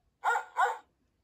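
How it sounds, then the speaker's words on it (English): A dog barks twice in quick succession, clear and fairly close, with silence around it. "The dog howls at the moon."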